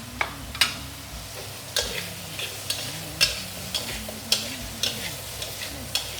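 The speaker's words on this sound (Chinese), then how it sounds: "洋葱也是现在倒下去" Onions tossed and stir-fried with minced pork in a pan for a petai and dried shrimp dish, with repeated sharp spatula scrapes and taps over a low sizzle, steady and close.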